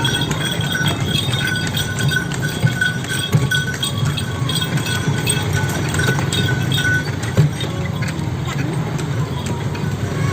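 Hooves clip-clop steadily as a horse pulls an andong carriage along a busy street, with jingling clinks and road noise around, and voices chatting now and then.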